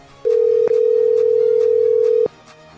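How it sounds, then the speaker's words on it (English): A single long, loud electronic tone from a landline phone, steady for about two seconds and broken by a brief click near the start. "She heard the landline phone beep as another voicemail appeared."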